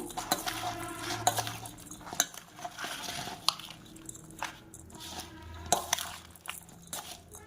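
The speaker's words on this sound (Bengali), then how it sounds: "এবার সব কিছু মিশিয়ে নিলাম।" Carrot, chili, ginger, garlic and coriander are stirred together for a mixed pickle, with a spoon clinking and scraping against a metal bowl in irregular close-up bursts and wet squishing between strokes.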